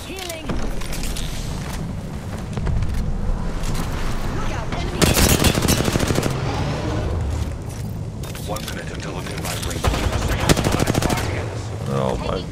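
Bursts of rapid automatic gunfire and heavy shots crack in Apex Legends, loud and close in several volleys with brief pauses, while a voice speaks over the fighting.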